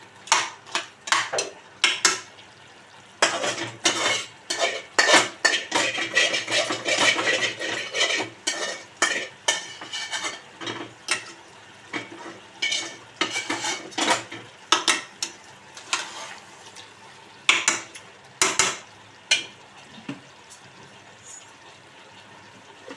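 Mutton curry with green chillies is stirred in a pot, a spoon scraping and knocking against the metal in irregular bursts. A soft sizzle runs underneath, and there is no speech.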